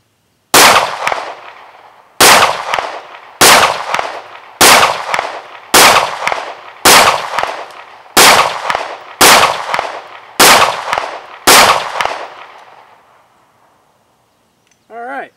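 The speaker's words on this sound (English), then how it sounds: "I'll do another 10 rounds, and then you can see how the weapon behaves in my hands." Ten sharp gunshots from a Smith & Wesson M&P 9mm pistol at a shooting range, fired one by one at a steady pace about a second apart, loud and close, each followed by a short ringing decay.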